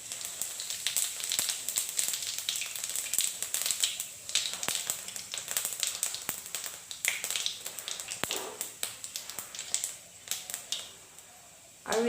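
Nigella and mustard seeds crackle and sizzle in hot oil for a mango pickle, giving a busy, close stream of fine pops and taps that thins out toward the end.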